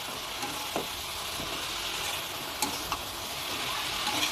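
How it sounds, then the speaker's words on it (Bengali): Leafy greens sizzle and crackle in hot oil in an uncovered pan, a steady close frying hiss broken by a few sharp clicks of a spatula stirring, with no talking. "এবার আমি শাকটা সুন্দর করে ভেজে নিব।"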